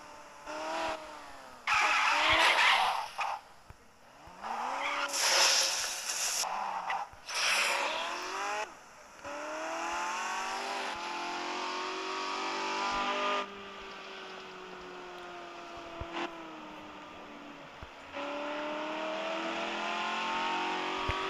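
Stolen supercar in the Gangstar Vegas video game driving and skidding, engine revving and surging with tire squeals in bursts, then a steady cruising drone, loud with no talk.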